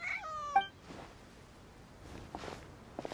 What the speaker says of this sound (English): Even a passing cat can't help but stop in its tracks and look up in anticipation.